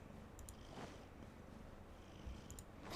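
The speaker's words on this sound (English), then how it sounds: "like, rumbling noise, it's my cat. He's purring very loudly and drooling while doing it." A cat purrs with a low, steady gravelly rumble, quiet and close, continuing throughout with faint background noise and no speech.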